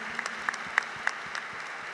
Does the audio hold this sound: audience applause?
yes